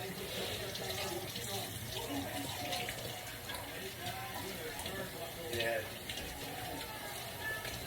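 Hot tap water runs steadily into a sink while hands are washed beneath it, a constant hiss with soft splashing shifts throughout.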